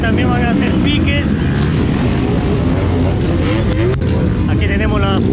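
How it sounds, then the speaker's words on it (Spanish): Small low-displacement motorcycles, including a KTM 250, revving and racing at a street drag meet, their engines loud and continuous with rising and falling pitch, mixed with nearby crowd chatter and shouting. "Motos de baja cilindrada que también van a hacer piques."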